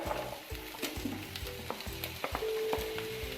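Finely chopped onion and chicken frying in a pan, a steady sizzle broken by repeated stirring scrapes and clinks, close and fairly quiet, with no voices.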